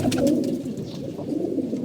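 Pigeons, mostly males, give a low, throaty coo close by, one soft rolling call running through the short moment with no voices.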